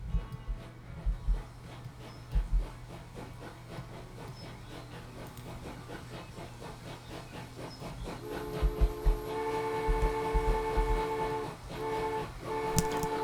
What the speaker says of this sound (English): Man, that's a pretty looking train.